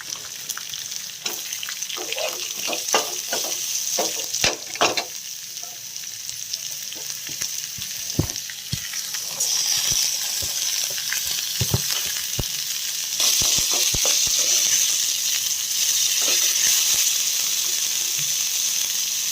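Chana dal, urad dal, mustard seeds and cumin are tempered in hot oil in a pan, making a close, steady sizzle. Sharp crackles and pops come in quick bursts and grow denser toward the end.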